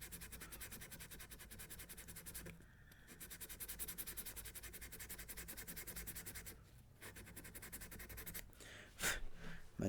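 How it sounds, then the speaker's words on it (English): Hand sanding at the neck joint of a 1939-style Martin D-18 Authentic acoustic guitar during a neck reset: a steady close rasp of abrasive on wood in continuous strokes, with brief pauses near the middle and a sharper scrape near the end. "But I'm going to come in here and sand this a little bit."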